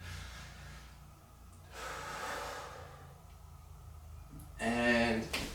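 Deep breaths drawn in during a stretching exercise for lower back pain, slow airy inhalations that swell and fade over several seconds, ending in a louder, sharper breath near the close, with faint low background hum.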